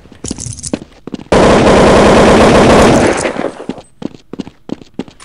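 Sniper rifle fire from Counter-Strike 1.6 rings out as a loud, sustained blast of gunfire lasting nearly two seconds, framed by shorter sharp game sounds before and after.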